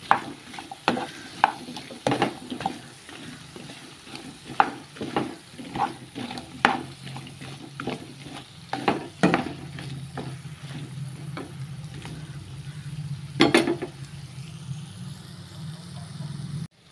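Lady finger okra frying in a pan with garlic, stirred repeatedly: sharp scraping and clacking strokes land every second or so over a steady low sizzle, with a louder clatter near the end.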